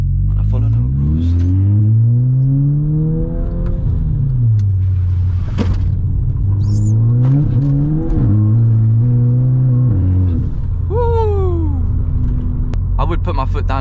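Volkswagen Scirocco engine droning steadily from inside the car while driving at the speed limit, with rising and falling revs through gear changes, loud and continuous, and someone talking over it.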